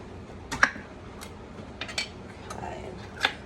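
Opening a can of Great Value condensed cream of chicken soup brings a few sharp metallic clicks and taps at irregular intervals over a quiet background, with no talk.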